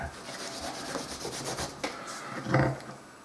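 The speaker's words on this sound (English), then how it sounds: "I use gloves and a, just a cloth and then just rub that in." Cloth rubbing dark paste into a leather Viking-style archer's bracer, a soft continuous scrubbing and swishing of fabric over leather, close and steady with a slightly louder stroke near the end.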